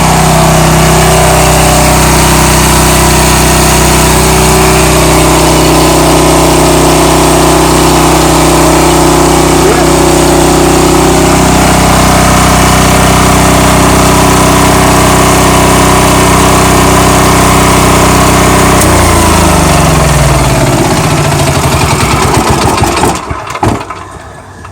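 A portable generator being checked before a hurricane runs loud and steady, its engine droning at an even idle for most of the stretch before the sound shifts and cuts off near the end.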